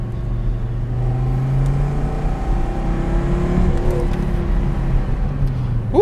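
A 1987 Audi 4000CS, naturally aspirated, accelerates hard in second gear on a public road, its engine note rising steadily over about six seconds with rolling road noise.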